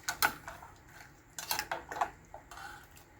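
Chicken balls, thinly sliced pork and minced beef are stirred together in a metal pot, giving a few sharp clinks and scrapes of a utensil against the pot in irregular bursts, close and alone.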